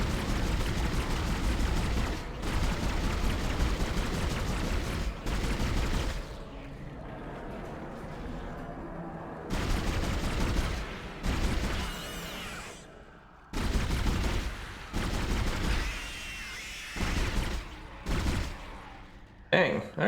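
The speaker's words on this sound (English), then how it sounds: "Just keep shooting." Weapons fire in the sci-fi horror game Dead Space, heavy bursts of shooting and booming impacts in long loud stretches broken by short quiet gaps, with a voice speaking between them.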